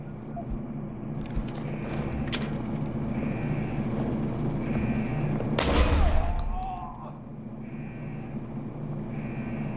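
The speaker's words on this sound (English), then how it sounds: "Gunshots!" Gunfire from the PC game Deus Ex: Human Revolution crackles in short, scattered shots over a steady low hum, with one heavier burst near the middle before the background settles again.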